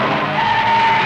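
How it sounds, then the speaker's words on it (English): A 1960s race car spinning out during a race, tires skidding with a single sustained squeal lasting about a second, loud and close over steady engine noise. "He spins out."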